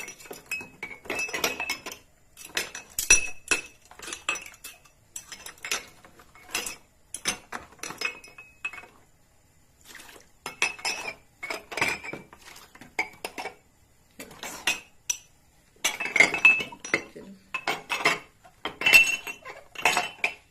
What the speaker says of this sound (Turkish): bardaklarımı yan çevirmem lazım.